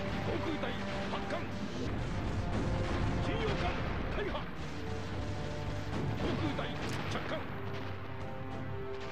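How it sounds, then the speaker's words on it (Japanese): Naval fleet gunfire in the PS2 strategy game Teitoku no Ketsudan 4 (PK2), with booming shots and crashes repeating irregularly over game music while players talk. "第14艦隊は砲撃戦に入ってるね。"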